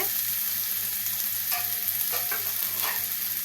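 Potato and papaya curry sizzles and fries in a pan, a steady close crackle with a few soft scraping stirs of a spoon against the pan, no voices.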